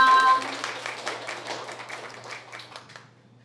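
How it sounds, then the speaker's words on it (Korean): A live audience claps to welcome a speaker at a lecture event, a scattered burst of applause that starts loud and fades away over a few seconds against a low steady hum. "그럼 격려의 박수로 모시겠습니다"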